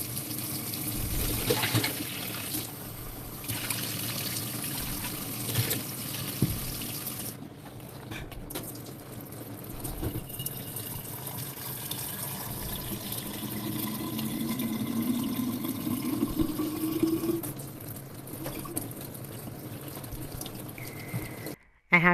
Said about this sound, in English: It's okay if water goes on the ground because there's a drain.